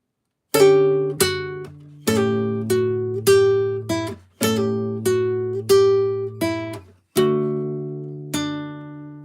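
Clean plucked notes on an archtop guitar in a slow phrase, with a quick grace-note pull-off among them, close and clear with no voices.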